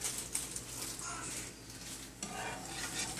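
Gravy being whisked steadily in a pan while it simmers for turkey meatloaf, a continuous close scraping and stirring with a faint sizzle, no talk.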